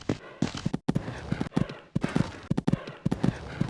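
A horse gallops on a cross-country course in the video game Equestriad 2001, its hooves drumming in loud, close, rapid triplet beats, with brief gaps between strides.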